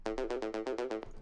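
A short synth lead plays about eight quick, even pulses with a bright, static tone, ending abruptly.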